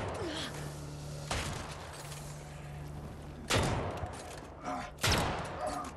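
Gunfire in Dead Island 2, with sharp, loud shots at irregular intervals over a steady low background hum of game ambience.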